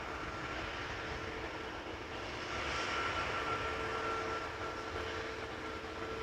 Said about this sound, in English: This is, of course, a 777. Having landed on Polderbaan, arriving from Guayaquil, Ecuador.